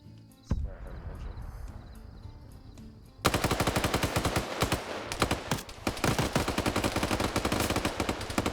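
Rapid bursts of automatic gunfire ring out in a military video game, a short shot and low rumble first, then a long loud stretch of dense rattling machine-gun fire with brief pauses.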